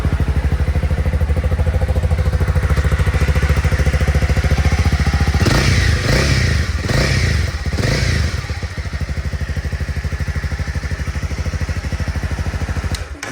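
A 2019 Honda CB300R single-cylinder motorcycle engine running, a loud steady rapid thumping idle with a few revving surges midway, then settling back to an even putter.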